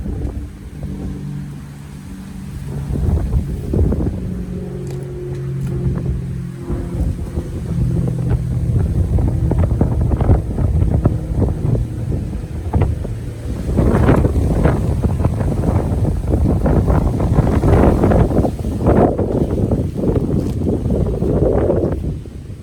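Strong, cold wind roars steadily and loudly around the microphone outdoors near electric fans, gusting and buffeting throughout with low rumbling, and no talking.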